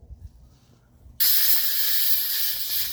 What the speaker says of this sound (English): Get a can of air duster.